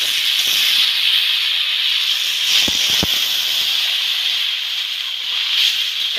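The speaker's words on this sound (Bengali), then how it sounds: "এবার আমি জল দিয়ে দিব।" Water poured into a hot pan of fried cauliflower curry hisses and sizzles steadily for several seconds, a broad bright steam hiss with a couple of sharp crackling pops near the middle.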